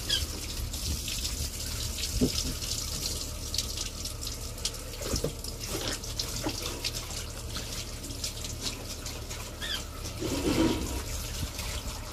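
Water rushes and hisses steadily at close range for about twelve seconds, like a toilet flushing and refilling, with no voices.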